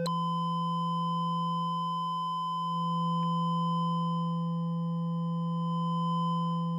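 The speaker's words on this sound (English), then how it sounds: "that is one small sine wave being controlled by a larger sine wave" A small sine wave modulated by a larger sine wave hums steadily with stacked overtones, its pitch wobbling slightly and its level swelling and dipping slowly, alone and unbroken.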